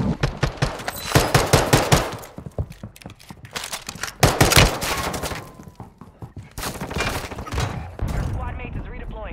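Rapid automatic gunfire bursts and explosive shots from Call of Duty: Warzone on Ashika Island, including a Fennec submachine gun, loud and dense, with game voice lines mixed in.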